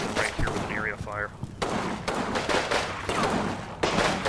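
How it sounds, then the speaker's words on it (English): Gunfire in a military strategy video game, with area fire aimed in a general direction: repeated sharp shots and bursts crackle over a busy battle bed while someone talks over it. "So these guys are just shooting in the general direction right here with an area of fire."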